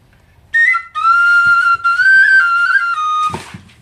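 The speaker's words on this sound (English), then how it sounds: "another quiet, mellow whistle, very pleasant sounding" A soprano tin whistle plays a few clear, sustained notes, mellow and quiet in tone, with short breaks between phrases and a breathy, noisy burst at the end, close and alone.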